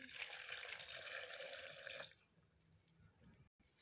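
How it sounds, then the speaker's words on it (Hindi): Water poured from a glass into a blender jar holding a pomegranate and beetroot juice mix with black salt, a steady bright splashing pour for about two seconds that stops abruptly, leaving quiet room noise. "1 गिलास हम लोग इसके अंदर पानी ऐड करेंगे।"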